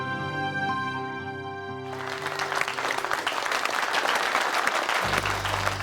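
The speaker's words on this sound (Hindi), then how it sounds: "जितनी जोरदार तालियां मिली हैं इन्हें" Loud, sustained applause from an audience greets a dance performance in a TV fantasy show, with dense clapping following a musical sting, then a low tone entering near the end.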